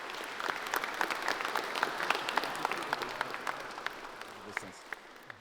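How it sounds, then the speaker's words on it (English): An audience at an architecture talk night claps for a speaker coming to the stage, a fairly faint, distant applause of distinct individual claps that thins out and fades toward the end. "Round of applause for him, please."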